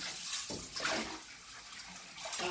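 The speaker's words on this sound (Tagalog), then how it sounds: "ganunin ko lang paghugas mga kamoy sa gripo" Warm water runs steadily from a tap with splashing and shifting flow as hands are rubbed with soap and rinsed under the stream.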